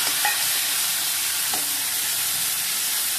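Sliced onions sautéing with curry leaves in hot oil in a kadai over high flame, giving a steady, loud, close sizzle with faint stirring clicks and no talking.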